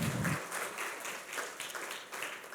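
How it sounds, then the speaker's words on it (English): Dense congregation clapping at a church service, a continuous crowd of hands applauding with gentle swells in loudness after a brief low voice at the very start. "Can you give a big clap offering to Jesus Christ?"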